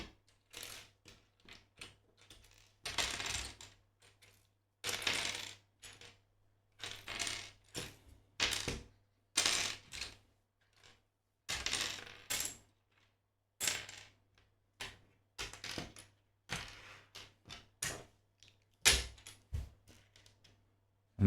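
Small LEGO pieces are sorted by hand, a rapid series of plastic clicks and rattles in short bursts separated by pauses, close and fairly quiet, with no talk.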